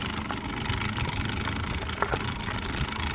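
An Engwe Engine Pro e-bike's motor, suspected burnt up, vibrating and rattling its rack: a continuous buzzing, grinding drone held close and fairly loud for the whole stretch, with small clicks and knocks over it and no talk.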